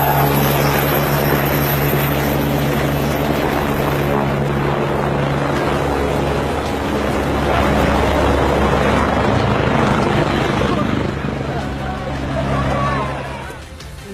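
A helicopter carrying Pakistani politician Nawaz Sharif lifts off, its loud, continuous rotor and engine roar filling the scene up close, with crowd voices mixed faintly beneath before the noise eases slightly near the end.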